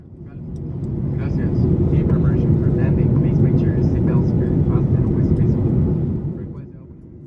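A Copa Airlines airliner beginning its descent toward Panama, heard from inside the cabin as a loud, steady, broadband engine and air roar that holds level before easing slightly near the end.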